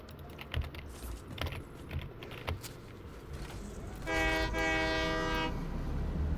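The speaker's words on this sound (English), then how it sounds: "we'll take a train." A train in the game Satisfactory rumbles along with intermittent clacking, then a loud sustained horn blares for over a second near the end.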